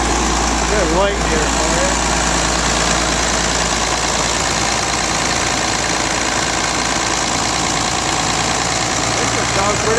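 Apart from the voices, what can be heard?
rebuilt tractor engine running at idle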